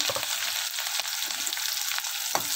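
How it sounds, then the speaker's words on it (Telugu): Onion pieces, curry leaves and green chilli bits frying in a pan for cabbage curry, a soft, even sizzle with light stirring taps, fairly quiet and unbroken by speech. "ఇప్పుడు ఇది కాస్త ఫ్రై అయిన వరకు అయితే మనము ఉల్లిపాయ ముక్కలు మగ్గిన వరకు అయితే ఇలా ఫ్రై చేసుకోవాలి."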